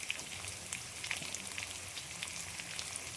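Garlic frying in hot oil, a soft, even crackle and fizz at low level, steady throughout without talk.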